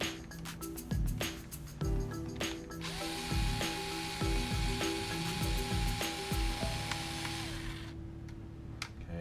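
A small power driver ratchets and whirs in short bursts while backing a screw out of the rear wheel of a Slade Boca RC car, with clicks and a sustained motor whine close up.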